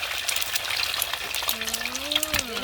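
Eggs fry in hot oil in a home kitchen, a steady crackling sizzle with sharp spits and pops, heard close up, while a faint whistling tone rises and falls near the end.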